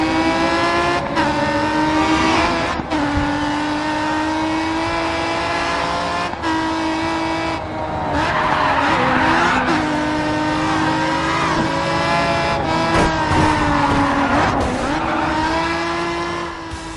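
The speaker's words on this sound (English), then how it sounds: "the immersive soundscape of roaring engines and squealing tires" Race car engines roar and rev continuously in the Grid 2 racing game, pitch climbing and dropping through gear changes, with bursts of squealing tires and skids, loud and close with no talk.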